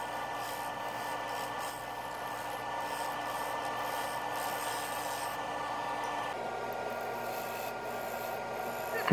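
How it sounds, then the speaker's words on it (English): A skew chisel squares the foot of a maple bowl spinning on a wood lathe, giving a steady, continuous soft scraping hiss at low level with no talk. "Here is the skew chisel, just squaring up the foot, making sure things are sharp and clean."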